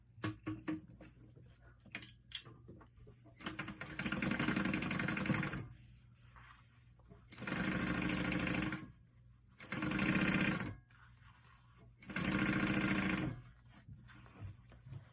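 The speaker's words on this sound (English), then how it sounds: "I'm just going to sew that as close to the zipper as I can get" A sewing machine stitches along the edge of a zipper on a handmade clutch, running in four separate steady bursts of a few seconds each with short pauses between, close and clear.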